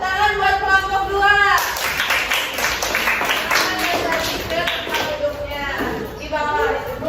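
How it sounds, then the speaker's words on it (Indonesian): A classroom of students claps for a student group for about four seconds, a dense burst of many hands. A teacher speaks just before and after the clapping. "tepuk tangan buat kelompok 2."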